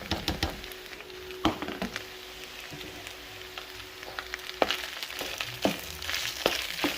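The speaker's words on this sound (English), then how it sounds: "I'm frying this in the wok." Basmati rice with potatoes and green onions fries in a wok, a soft steady sizzle broken by sharp scraping clicks and taps of stirring at irregular intervals, with no voices.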